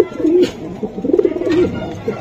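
A silver Giribaz pigeon coos repeatedly at close range, a series of short throaty rolling calls, while someone speaks nearby.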